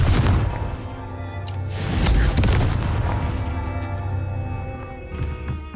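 Explosive Confringo spell blasts in Hogwarts Legacy, a deep boom with crackling bursts near the start, then a rumbling tail over a steady hum of game music.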